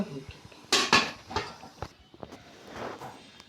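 A puttu steamer pot is opened and sugar mixed in, heard as sharp metallic clanks and clatters of pot and utensil, a few close knocks, then lighter scraping and stirring that fades out.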